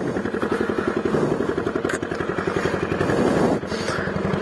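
A motorcycle engine idles and revs with its exhaust pipe just come loose, giving a loud, raw, rapidly pulsing putter with rattly clatter, close and continuous throughout.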